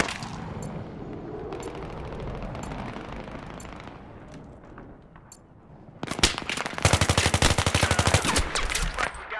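Machine-gun fire in Battlefield 3, scattered distant shots at first, then a loud, close, rapid burst of automatic fire that rattles on steadily for the last few seconds.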